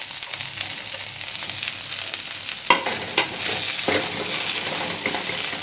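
Potatoes frying in oil and being stirred in a pan for sabudana khichdi, a continuous sizzle broken by sharp scraping and clattering strokes of the spoon.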